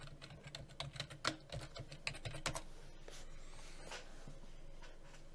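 Keys clatter on a computer keyboard as a password is typed at a login screen, a quick irregular burst of close, crisp clicks for a couple of seconds, then a quieter stretch with a few scattered taps, no voices.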